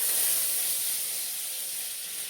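Mustard seeds and curry leaves sizzle in hot oil in a pan, a steady bright hiss that fades slightly, heard alone with no voices.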